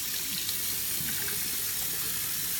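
Tap water runs steadily into a sink during a facial cleansing routine with skincare cleansers, a continuous close splashing stream with no talk.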